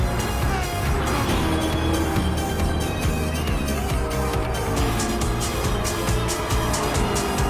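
A Corvette and a Ferrari race side by side on a circuit, engines roaring loudly and continuously with tire noise as they push through the turns.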